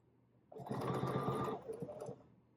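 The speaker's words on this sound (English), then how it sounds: "And now I'm just going to sew a little bit" A sewing machine runs in a short burst of rapid stitching, a quick mechanical rattle that slows and stops after about a second and a half.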